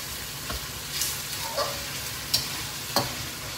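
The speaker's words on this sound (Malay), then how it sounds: "Bila masukkan cili ni, kita kena goreng cili sampai dia masak betul" Dried chillies frying for a red chicken or beef dish in a pan, a steady quiet sizzle broken by a few sharp scrapes and clinks of stirring, close by with no talking.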